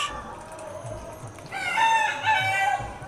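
Chinese domestic ducks on a farm call repeatedly. Loud, overlapping cackling fills the second half over steady background noise.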